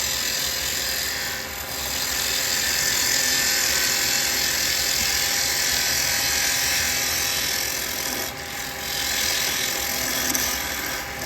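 Carbide chisel cutting a spinning wood blank on a lathe, a loud continuous buzzing whine with a steady mechanical hum, briefly easing and returning, close and without talk.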